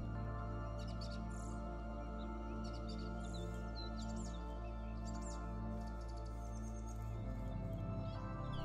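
Bird calls outdoors: repeated faint chirps and tweets scattered through a steady low hum of background noise, with no talk.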